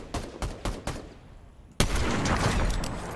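Video game gunfire aimed at a wall during a trios match: several separate shots spaced about a quarter second apart, a short pause, then a sustained rapid burst of loud firing.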